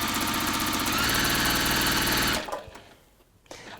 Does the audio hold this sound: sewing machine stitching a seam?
yes